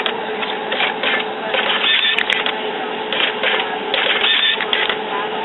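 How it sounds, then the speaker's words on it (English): An Epson ColorWorks C3500 label printer runs labels through, a continuous mechanical whirring with rhythmic clicking and feeding bursts, close and steady for several seconds. "Now I'm starting to print out my labels."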